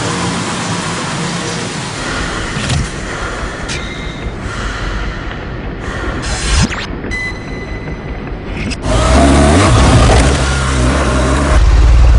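A 2014 BMW R1200GS motorcycle engine pulls hard through the gears, loud and close, with rising revs and brief shift breaks, then surges to a stronger, louder roar in the final seconds.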